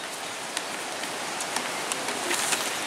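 Light rain falls steadily while hiking under overcast skies in Torres del Paine, Patagonia, a dense hiss with scattered nearby drops tapping on a surface and no talking.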